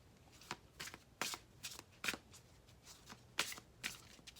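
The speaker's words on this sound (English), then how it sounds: "I'm going to pull a romance oracle card." A deck of oracle cards being shuffled by hand, about nine quick papery riffles and slaps in an uneven rhythm, close and soft with no talk.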